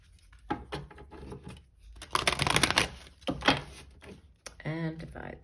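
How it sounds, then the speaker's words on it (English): A tarot deck gets a brief shuffle, with papery riffling and patter in short bursts under a soft speaking voice, fairly close and quiet. "we'll do one last shuffle"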